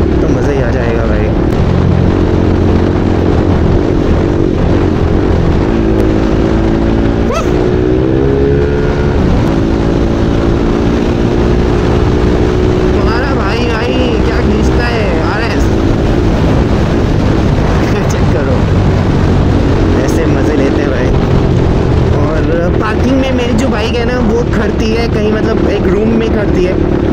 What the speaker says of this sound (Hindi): एक तो एग्जॉस्ट लगा रखा है, ऊपर से मैंने डीवी किलर निकाल रखा है